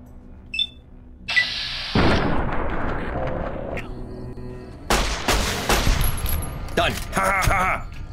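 Gunfire in the video game Fallout: New Vegas: a dense burst of shots and impacts that rolls on for several seconds, loud and close, with sharp cracks near the end.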